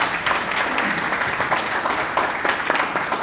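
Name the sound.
applause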